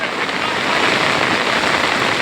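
Floodwater rushes over the village bridge in Rajasthali Gir, Amreli district, after heavy rain, a steady, loud broadband roar of churning water that holds constant throughout without any pause.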